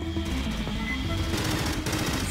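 Rapid automatic gunfire from the video game Aliens: Fireteam Elite, a dense, continuous rattle of shots filling the whole moment, loud and steady with no pauses.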